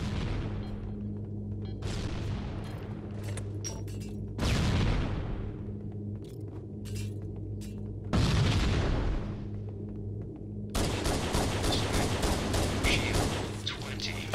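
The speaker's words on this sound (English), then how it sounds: "Shotgun." Video game shotgun blasts and gunfire: several loud booming shots at irregular intervals with sharp crackling bursts between them, set over a continuous low game background.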